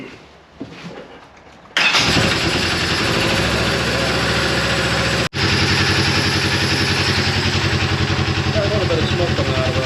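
A Razor 900 side-by-side, just back together after a valve adjustment and cam install, cranks and fires into a loud, steady close-up idle, with one abrupt momentary cutout midway before settling back into an even running rhythm; a voice speaks briefly beforehand.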